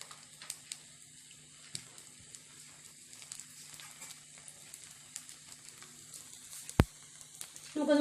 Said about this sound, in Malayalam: അപ്പോൾ നമുക്കിതിൽ കുറച്ച് വെളിച്ചെണ്ണ ഒഴിച്ചു കൊടുക്കാം.